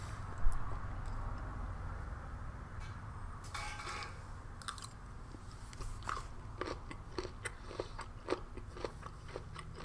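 Crunchy bites and chewing of spicy kohlrabi from a Chinese PLA Navy self-heating ration, close and fairly quiet, with a run of sharp crunches in the second half and no talk.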